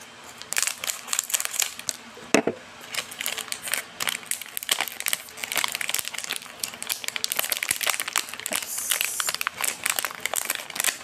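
Scissors cut open a plastic food package: close, sharp crinkling and crackling of wrapper plastic in irregular bursts, with occasional snips and rustles throughout.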